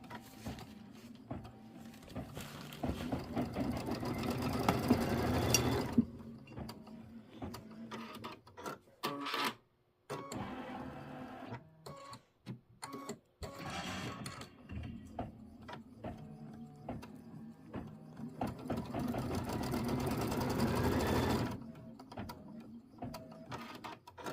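A Kimberbell embroidery sewing machine stitches quilt squares nearby, its mechanical whirring running in long stretches broken by short pauses and stop-start bursts.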